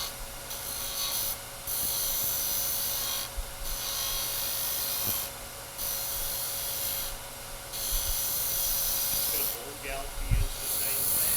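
A spindle gouge cuts wood on a lathe while making a lidded box, giving a steady hissing shear broken by a few short pauses, with faint knocks near the end.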